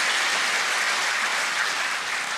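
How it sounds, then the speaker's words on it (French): Steady applause from national assembly deputies at a speech marking their election in the December 2025 legislative elections, dense and continuous throughout with no voices over it. "Félicitations, oui, on peut applaudir."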